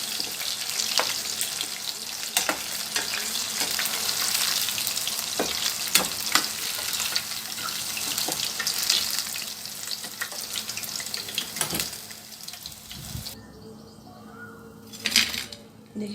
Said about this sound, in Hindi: एक 4 से 5 मिनट काफ़ी है इसको फ्राई होने के लिए, गलने के लिए, और गोल्डन ब्राउन होने तक निकालने।